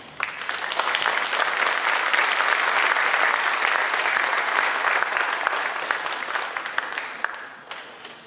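An audience at a commemorative event breaks into sustained, dense applause that holds steady for several seconds before thinning out at the end.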